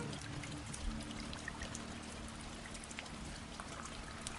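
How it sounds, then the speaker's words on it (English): Heavy rain pours down outdoors around a motorcycle, a loud unbroken wash of water with streaming and dribbling close by and no voices. "Heavy rain, Zul."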